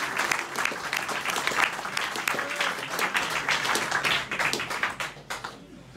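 An audience at a live music venue gives a round of applause, with sharp, dense hand claps close by that thin out toward the end.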